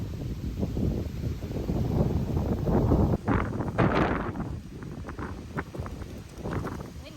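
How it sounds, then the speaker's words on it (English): Wind gusts at a state park campsite beside a travel trailer, buffeting the microphone in rough rumbling surges that swell and ease, with faint rustling and ticking noises mixed in. "Windy."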